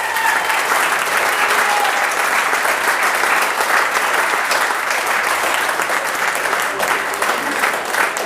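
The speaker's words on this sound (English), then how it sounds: "So I'd like to give you applause to Ryan Woodcroft." Sustained round of applause from a crowd at an automotive achievement awards ceremony, dense steady clapping throughout at close range.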